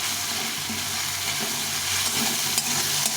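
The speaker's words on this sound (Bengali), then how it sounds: "এটাকে একটু কষিয়ে নেব আদা কাঁচা লঙ্কাটা কষা কষা হয়ে গেছে তেল ছেড়ে দিয়েছে" Ginger and green chili paste fries in oil while a spoon stirs it, giving a steady, close, even sizzle with soft scraping throughout and no voices.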